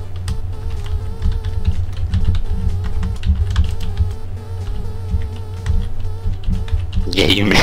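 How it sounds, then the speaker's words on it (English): Rapid, close typing on a computer keyboard, a dense clatter of keystrokes running for several seconds under steady background hum, with people talking over it near the end. "Mashing the fuck out of that keyboard."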